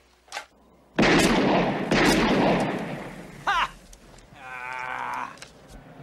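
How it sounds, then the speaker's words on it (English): Gunfire at a target ranch, shooting at beer cans thrown into the air: a loud shot at about one second followed by a booming, reverberant tail, with a fainter pop earlier and a brief later crack, then quieter outdoor sounds. "So let's shoot us some beers."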